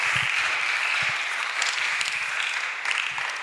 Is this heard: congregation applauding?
yes